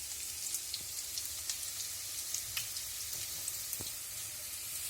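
Finely chopped onions with bay leaves frying in hot ghee, a steady soft crackling sizzle with scattered light pops throughout, close up and without talk.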